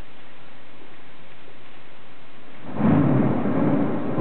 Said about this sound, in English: Try to catch you a little thunder here.